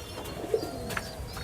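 Sky cutter pigeons kept as a pair, giving a brief soft coo up close against quiet background noise.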